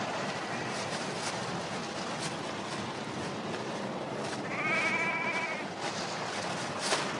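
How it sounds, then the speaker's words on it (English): A sheep bleats once, faintly and at a distance, against a steady outdoor background rumble with no one talking. "I can hear the odd sheep barring."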